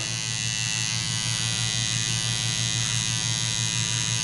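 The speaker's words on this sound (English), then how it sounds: "I'm just using the corner of my blade to shape his beard." An electric hair trimmer shaping a beard with the corner of its blade gives a steady, loud, close buzz with a constant hum, running unbroken and with no talk over it.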